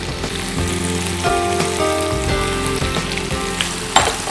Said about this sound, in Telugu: కొంచెం ఫ్రై చేసుకుందాం.